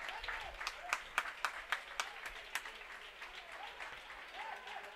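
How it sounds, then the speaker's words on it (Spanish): Spectators at a CD Pozoblanco vs Atco Espeleño football match give a player a scattered, fairly distant round of applause as he is substituted in the 70th minute. A commentator's voice runs faintly over the clapping. "Aplausos para la despedida de Antonio Sancho."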